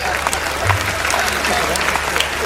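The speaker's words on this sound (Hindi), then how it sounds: "और अब आपकी तालियां उठेंगी" An audience at a spoken Hindi discourse breaks into sustained applause, a dense steady wash of clapping that carries through the whole stretch while a voice continues faintly underneath.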